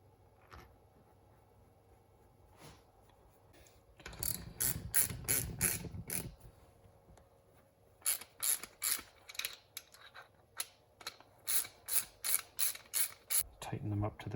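A ratchet tightens the brake caliper bolts on a 1986 Suzuki GSX-R 750 Skoal Bandit during restoration, with several bursts of rapid, close clicking. A longer run of quick clicks is broken into short strokes, over a quiet background.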